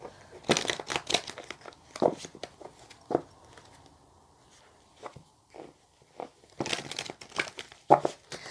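Tarot cards are shuffled by hand in a run of irregular papery riffles and crisp snaps, close and fairly loud, with quiet gaps between bursts.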